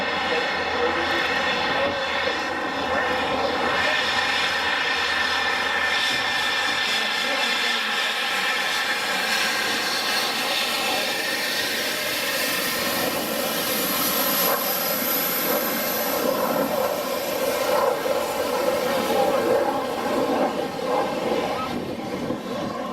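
An F-16 Viper jet at the 2011 Holloman airshow roars continuously and loudly overhead, its engine noise swelling and shifting in pitch as it passes.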